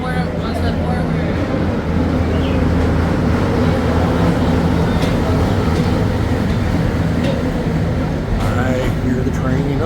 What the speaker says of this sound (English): I hear the train upcoming. She's coming around, and here she is, everybody, coming in the station.